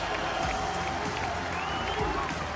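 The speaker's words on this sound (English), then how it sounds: "Listen to France as they are cheering for Uzi." A large arena crowd cheers and applauds at the 2018 League of Legends Mid-Season Invitational final, a dense continuous roar of voices and clapping with commentary-like talk running over it.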